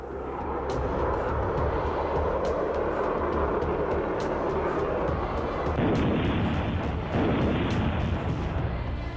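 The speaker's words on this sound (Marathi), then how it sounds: "तर हे आहे अमेरिकेचं F-16 लढाऊ विमान." An F-16 fighter jet's engine roars loudly and steadily throughout, a dense continuous rumble with no pauses.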